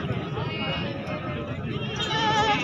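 Beetal and Nagri breed goats in a pen, with a bleat rising out of the background near the end while someone talks over the animals.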